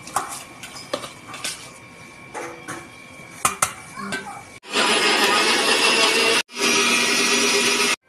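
Kitchen blender churning watermelon with a whole gondhoraj lemon for ice cream, loud and close, running in two bursts with a brief pause, after scattered clinks and handling of the machine.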